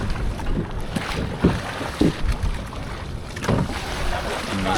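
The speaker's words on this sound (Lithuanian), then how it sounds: "Ir nelabai motoras nori dirbti." A motorboat with a faltering, faulty engine rocks through choppy waves, wind buffeting the microphone and water slapping the hull in irregular bursts, with a few brief voices in the background.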